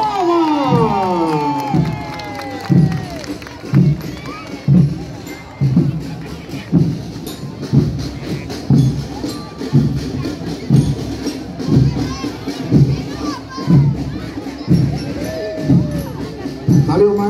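A crowd cheers at a civic parade in Rio Doce, Olinda, while a marching band's drums pound a steady beat and a narrator talks over the noise.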